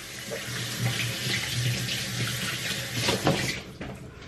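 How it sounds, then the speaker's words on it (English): Tap water runs steadily into a sink while hands are washed, a close, continuous splashing rush that fades slightly at the end, with no speech. "Gonna wash my hands now."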